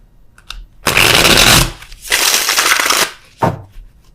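Tarot cards are shuffled in two loud, close riffling bursts, followed by a short slap as the deck is squared.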